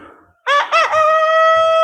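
A single loud chick call rings out close by, starting with two quick choppy notes and then holding a drawn-out tonal cry.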